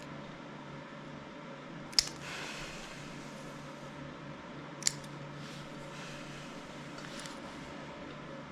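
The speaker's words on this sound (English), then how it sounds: "Alright, we're going to tackle these nails now. These nails are pretty long. Going to cut these back." Clippers trimming a Pekingese dog's long, overgrown nails, giving two sharp isolated clicks a few seconds apart against a quiet room hum, with no speech.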